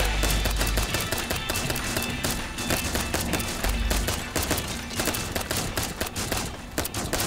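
Video game gunfire rattles in rapid, dense volleys of sharp shots, loud and continuous throughout with no pause.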